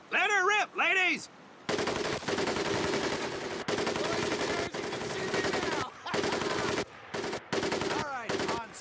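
A mounted machine gun fires in the 2004 video game Medal of Honor Pacific Assault. A short shout comes first, then long, loud automatic bursts with brief pauses between them.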